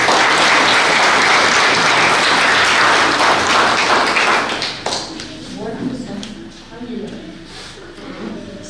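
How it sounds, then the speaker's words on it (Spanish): Loud applause rises from the crowd at a civil wedding ceremony during a town's patron-saint festival, then fades into scattered clapping and murmured voices. "registrador civil, Juan Romero Alfaro, a quien pues voy a pedir un fuerte voto de aplauso"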